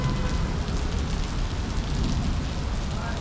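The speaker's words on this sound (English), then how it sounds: "there's so much rain that probably other parts of Macau it's still flooding" Heavy rain pours steadily on a street in Taipa Village, Macau, a dense, constant roaring hiss of water falling and running, loud and close throughout.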